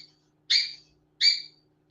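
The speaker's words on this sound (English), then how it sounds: "As you can hear my bird, he doesn't like it when I'm on a live." A pet bird at home gives two loud, clear chirps about three-quarters of a second apart, each a short bright call that trails off, heard close and alone against a quiet room.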